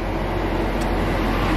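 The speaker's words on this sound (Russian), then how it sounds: "есть такая грузовая машина. Это машина с краном." A steady low engine rumble runs throughout, a crane truck idling outdoors at close range with constant broadband noise and no pauses.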